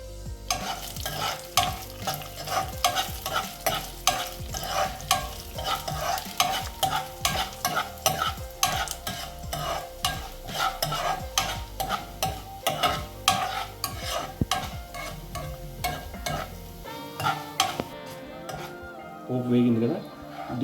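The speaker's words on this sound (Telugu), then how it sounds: "పప్పులను వేయించుకుందాం." Lentils fry in hot oil on a gas stove for an Andhra-style onion chutney tempering, a steady loud sizzle broken by repeated scraping strokes of a spoon against the pan, easing off near the end.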